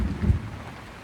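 Rain during a thunderstorm in the countryside, a rough low rumble swelling briefly near the start over a steady rainy hiss, no voices.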